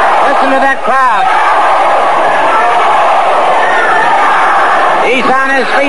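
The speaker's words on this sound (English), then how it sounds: "Listen to that crowd." A wrestling arena crowd at Championship Wrestling From Florida roars loudly and steadily throughout, with shouts and whoops rising from the mass of voices, mixed with a commentator's talk.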